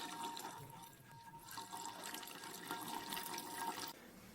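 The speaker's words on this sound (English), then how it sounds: "I want to show you how it should flow. like this, absolutely evenly without surges." Freshly distilled ouzo trickling from a gas-fired still in a smooth, even stream without surges, a faint, close, continuous liquid patter with no talk.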